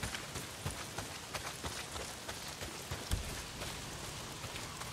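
Heavy rain pours down in the Days Gone video game, a dense, steady hiss with scattered sharper drops spattering on surfaces throughout.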